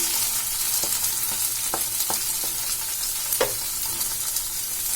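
Grated potato and carrot fry with leftover idli in a pan. A steady, dense sizzle carries on throughout, broken by a few soft clicks of a stirring spoon against the pan. No voices.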